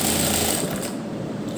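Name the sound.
sewing machine stitching fabric cuff sleeve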